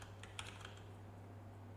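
Faint keyboard typing at a computer while entering an Excel formula, a few light clustered keystrokes early on, then quiet under a steady low hum.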